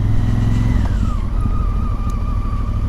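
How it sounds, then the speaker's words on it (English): A car approaching and passing on a gravel road while riders wait on Honda motorcycles, a loud steady engine rumble with a slight pitch shift as it goes by, up close and alone. "And there is a car coming down."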